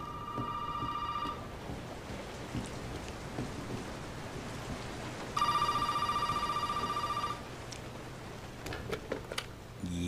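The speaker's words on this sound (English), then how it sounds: "Is the phone ringing?" A telephone rings in two electronic bursts in Resident Evil 7: Biohazard, one at the start and another midway, over a steady rain-like hiss with faint clicks.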